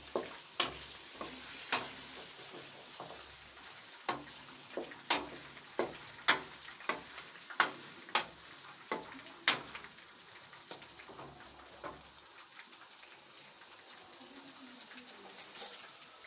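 White chicken karahi being stirred in a pan at home, a spoon scraping in regular strokes over a faint sizzle, each stroke a sharp click that is close and moderately quiet.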